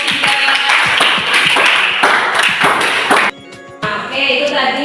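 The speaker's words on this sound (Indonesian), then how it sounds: "beri aplaus untuk kelompok 3" A classroom audience claps for a student presentation group in a dense, steady patter of hand claps lasting about three seconds, which cuts off abruptly into a quieter room tone.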